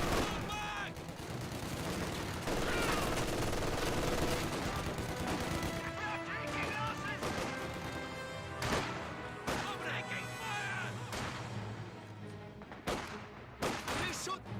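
Rifle and machine gun fire from a Company of Heroes 2 battle, a dense continuous rattle of shots and bursts with scattered louder cracks, mixed with other battle noise at moderate level.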